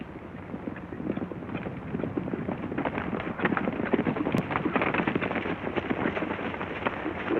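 Horses ride along at a steady pace, dense overlapping clip-clop hoofbeats continuing throughout at moderate loudness, with a faint rumble beneath.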